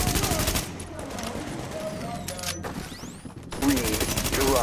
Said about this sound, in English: I'm gonna use my shotgun.